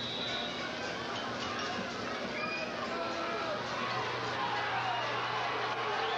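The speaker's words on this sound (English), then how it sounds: "The crowd on both sides gets into it." A high school football crowd roars from both sides of the stadium in a continuous, dense wash of cheering and babble, with an announcer talking over it.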